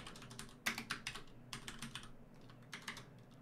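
Quick keystrokes on a computer keyboard, irregular clusters of clicks with short pauses, close and fairly quiet.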